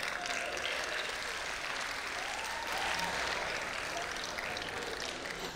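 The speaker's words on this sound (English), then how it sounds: "Round of applause for them." Steady applause from an audience at a company awards gala, sustained clapping at moderate distance throughout, with faint voices mixed in.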